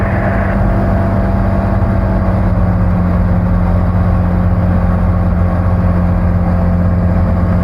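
Light aircraft piston engine throttled back to a cruise setting in flight, a steady loud drone with a constant low hum and no pauses, heard from inside the cabin.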